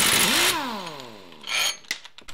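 An impact gun runs in reverse to back a nut off a wheel stud during a stud replacement, giving a loud burst of rapid hammering that spins down as the motor slows, followed by a few short clicks and knocks close by.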